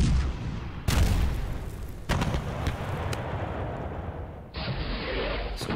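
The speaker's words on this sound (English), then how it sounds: "Wow, the incoming fire there." Incoming artillery fire in the Panzer Battles Kursk wargame: a series of loud, sharp booming impacts with sustained rumbling blast noise between them, fairly close and continuous, with no talking.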